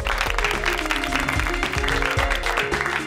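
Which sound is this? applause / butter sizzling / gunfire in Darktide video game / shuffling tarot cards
applause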